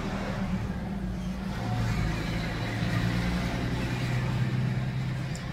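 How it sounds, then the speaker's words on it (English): A loud truck rumbles past nearby on a road, its low engine drone swelling and holding steady with no talk over it. "there's a loud truck about to go by"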